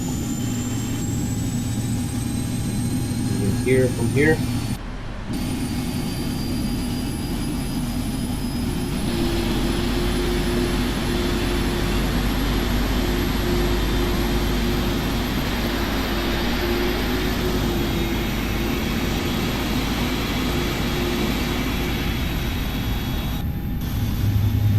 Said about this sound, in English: turn on the second engine